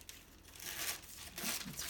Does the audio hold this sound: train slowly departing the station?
no